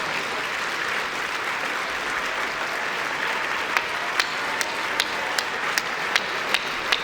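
An audience at a New Year's greetings ceremony claps for volunteers in a sustained, dense round of applause, with a few sharper individual claps standing out near the end.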